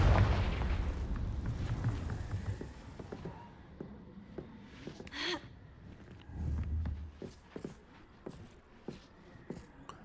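Casting Confringo, the fire spell in Hogwarts Legacy, sets off a loud booming blast right at the start that fades into quieter game sounds, scattered pops and faint breathy noises.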